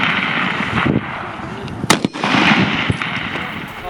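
Live machine gun and rifle fire during a WWII-style squad tactics exercise, a dense run of sharp outdoor reports with one louder blast near two seconds, under a continuous wash of shouting and background noise.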